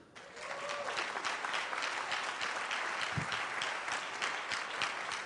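Audience applause fills the room, sustained and steady from start to finish, with no voice over it.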